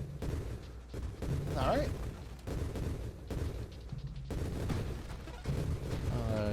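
Repeated space explosions in the video game Nova Drift, a rapid, dense barrage of booming blasts and bursts, with someone talking over the din.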